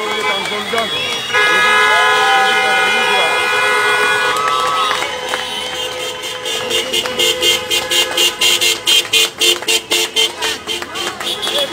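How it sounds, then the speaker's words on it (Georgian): Cars honk their horns as they join a street protest march in Batumi supporting Ukraine, with a loud crowd chanting and cheering nearby, followed by rhythmic repeated honks. "საყვირებით უერთდებიან მსვლელობას"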